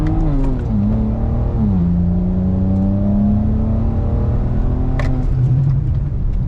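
A BMW E92 335i with the N54 twin-turbo engine and newly installed downpipes accelerates hard from a launch, its loud, close exhaust drone rising in pitch through gears with a brief dip at a shift, heard from inside the car.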